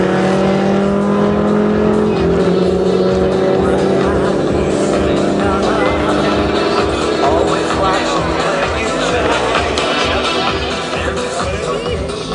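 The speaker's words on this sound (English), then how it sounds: "Broj 73, Zoran Slavković, Zoki, u svom Suzuki Marutiju" A Suzuki Maruti race car with 170 HP roars at high revs during a drag-racing run, its engine note loud and sustained for about twelve seconds while a commentator talks over it.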